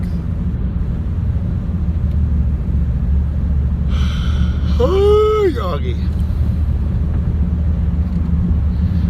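Steady low rumble of road traffic heard from inside a moving car, with a brief voice in the cab and a short higher whine partway through.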